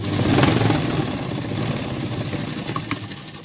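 A sewing machine stitches lehenga lining fabric in a steady, close mechanical whir that runs continuously and eases off slightly toward the end, with no talking over it.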